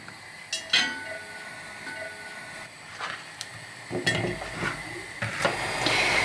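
Cut pieces of sweet pepper dropped into a bowl, with a few soft clinks and knocks against the dish in an irregular rhythm over a light background hiss.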